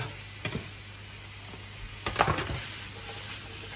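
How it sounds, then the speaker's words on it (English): Onion, garlic and chillies frying in a pan for a Chinese stir-fry, giving a steady low sizzle with a few scraping stir strokes and light clatter, fairly quiet, no talking. "Give that a good stir round."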